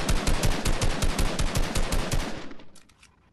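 Rapid automatic gunfire in a battle royale shooter game, loud, sustained bursts of closely spaced shots for over two seconds, then tapering into a few fainter, scattered reports.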